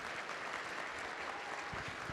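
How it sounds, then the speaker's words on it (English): A large conference audience at a security convention applauds steadily, a thick, even roar of many hands heard from a distance and somewhat faint, without speech. "A round of applause is absolutely appropriate here."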